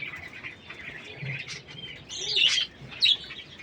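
King quails beside their eggs give soft chirps and short high tweets, with a louder burst of calls toward the end amid faint rustling; no one speaks.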